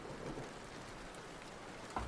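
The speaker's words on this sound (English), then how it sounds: "It's raining outside." Rain falling outside, a soft continuous hiss of drops, faint and even, with one brief louder knock near the end.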